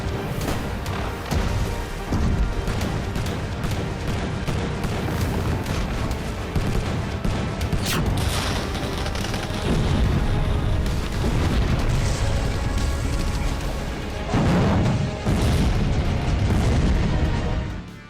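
Battle gunfire and explosions: rapid volleys of shots and repeated heavy booms in dense, continuous bursts, loud throughout with brief lulls between barrages.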